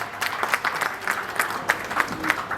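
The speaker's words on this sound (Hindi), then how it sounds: "तालियां बजा दीजिए एक बार।" Audience at a conference in Delhi clapping on request, a moderate round of applause with several distinct, rhythmic louder claps standing out against the general patter.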